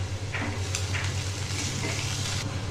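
Onions sizzle steadily in a pan while a bay leaf goes in, a close continuous frying hiss with light stirring scrapes, for a whole fish curry.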